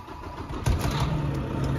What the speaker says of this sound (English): And I'm gonna start the truck.